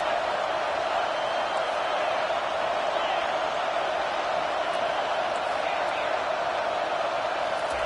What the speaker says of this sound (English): Now the crowd responding in the red zone, trying to help this defense.